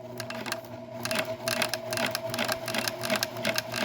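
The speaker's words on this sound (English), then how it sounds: "I'm really excited that this is now sewing properly" A PFAFF Creative 1471 sewing machine stitches steadily with a fast, even mechanical whir and rhythmic needle ticking, close up and running alone throughout.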